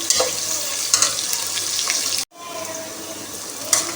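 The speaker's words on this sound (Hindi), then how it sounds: "हम इसमें प्याज ऐड करते हैं, अनियन ऐड कर दें। आँच फुल रख लें और इसको थोड़ा सा ब्राउन होने दें।" Onions frying in hot oil on full heat for beef pulao, a loud continuous close sizzle with occasional stirring scrapes and a brief cut near the middle.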